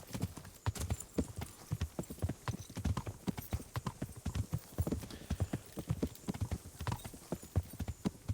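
Horse hooves clip-clop in a quick, steady rhythm as a rider approaches in the medieval game Kingdom Come: Deliverance, loud and close, with a brief whinny mixed in.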